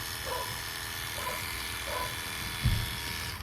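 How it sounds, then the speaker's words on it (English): An electric pet hair clipper with freshly oiled blades buzzes steadily and close at a constant pitch, a continuous even hum with a brief knock near the end and no speech. "Run the clipper just to get the oil go all in between the blade teeth for a few seconds"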